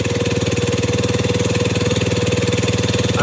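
A homemade firewood log splitter's engine runs at a steady idle, a loud, close, rapidly pulsing chug that holds even throughout without voices.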